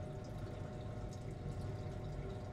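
Nitric acid is poured into a gold solution, giving a faint, steady trickling and pouring sound with a low, even liquid hiss and no talk.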